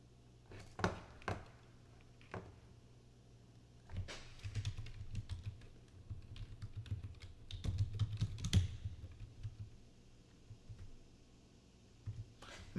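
A password is typed on a computer keyboard at a day-trading desk: scattered single key clicks, then denser runs of quick keystrokes, all close and fairly quiet, with no talking.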